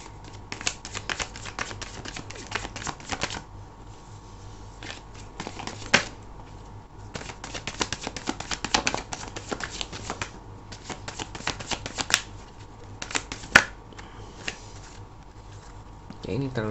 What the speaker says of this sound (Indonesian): aku akan shuffle lagi ya